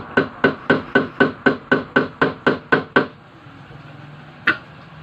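A hammer taps a part onto the motor shaft of a kitchen mixer during repair, about eleven light, evenly spaced knocks in a quick run, then a pause and one more separate tap, close up with no speech.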